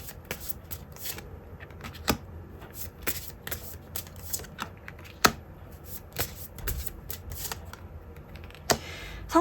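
Tarot cards are shuffled in a steady run of crisp riffling slaps and flutters, close and fairly quiet, with a faint voice in the background.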